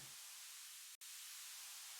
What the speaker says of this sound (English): just a bunch of white noise.